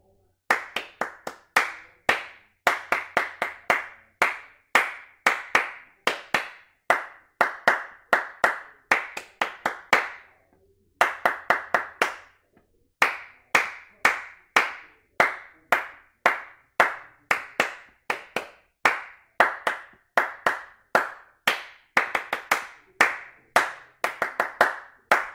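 Sharp hand claps ring out in rhythmic call-and-response phrases, one group of claps answered by a matching pattern, repeating in clear, crisp bursts with brief pauses between phrases and no talking, part of a samba clapping exercise.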